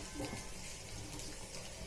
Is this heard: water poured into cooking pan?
yes